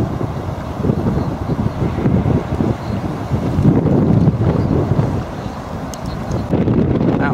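Storm-force wind on Bray Lake buffets the microphone in heavy, rumbling gusts around a small robot sailboat, with the roar dominating throughout and no talk.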